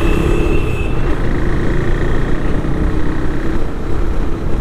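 A KTM RC 390 rides in a group alongside an R15 V3, Duke 390, Dominar and RS 200. Its engine gives a loud, steady, continuous drone with road rush throughout, and no one talks.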